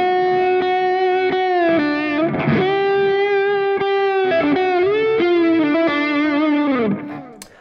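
Overdriven electric guitar played through a Friedman Dirty Shirley pedal with gain near two o'clock, plus delay and compressor, ringing sustained chords and bent notes with a smooth, saturated tone before the last chord fades out.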